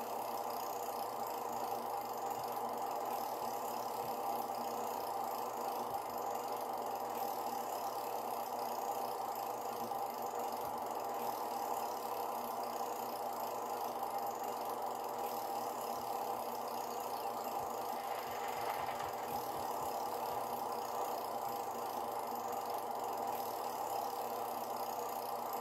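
An old 1968 SUV engine idling in the Farming Simulator 17 video game: a steady, even mid-pitched engine drone with a faint knocking undertone, continuous and moderately loud, with no talking.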